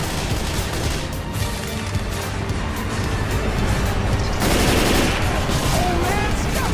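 Video game gunfire, heard as dense, rapid bursts of shots and automatic fire mixed with game noise and a busy layered soundscape, loud and continuous throughout.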